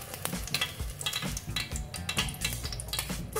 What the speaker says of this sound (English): Okay, we need to add the garlic.